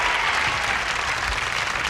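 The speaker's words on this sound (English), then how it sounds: "giving a big round of applause to our stars" A television studio audience gives the stars of a game show a big round of applause, with loud, steady clapping filling the whole short stretch and voices mixed in.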